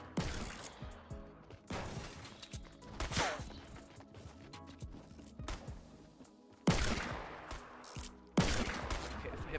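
Sniper rifle shots in the video game Fortnite, several sharp loud cracks spread across the clip with gunfire and game sounds in between, the two final shots loudest and isolated.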